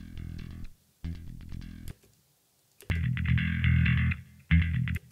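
Distorted bass guitar recorded direct through effects, playing short heavy phrases in bursts separated by brief silences, thick low tones with gritty upper overtones, no talking.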